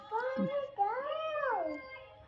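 A toy or cartoon cat, called a mermaid kitty, gives one long wavering meow, then a second sliding meow in a bright tone, with a child's playroom in the background.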